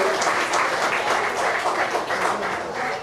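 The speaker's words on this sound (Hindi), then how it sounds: "इनके लिए जोरदार तालियां हो जाए।" Loud, steady applause for the contestants from the audience at a singing reality show launch, a dense wash of clapping throughout.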